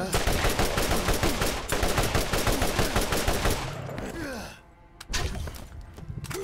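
Rapid automatic turret gunfire from Borderlands, loud and sustained in dense bursts for several seconds before briefly easing off, then resuming in shorter shots.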